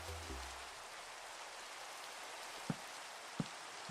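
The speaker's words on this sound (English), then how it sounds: "Yay, it's raining." Rain falling steadily in a hardcore Minecraft world, a soft even patter with a couple of faint low thumps, no talking over it.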